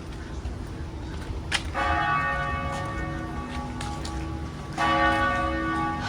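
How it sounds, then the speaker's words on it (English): Church bells toll near the Basilica of St. John the Baptist in Savannah's historic district, two resonant strikes ringing out and sustaining over a steady outdoor rain-like hiss. "So you could probably hear the church bells."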